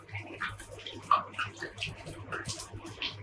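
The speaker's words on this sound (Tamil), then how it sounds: "இதை வந்து அப்படியே கொஞ்சம் தண்ணியில் போட்டு இப்படி நல்லா கழுவி எடுத்துக்கணும்" Peeled, fire-roasted eggplant for a village-style chutney is swished and rubbed in water, giving faint, close splashing and trickling with small irregular bursts, under a low voice.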